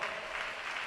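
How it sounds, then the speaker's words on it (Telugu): Church congregation clapping, a brief dense burst of many hands applauding together, soft and steady. "కొట్టు చప్పట్లో"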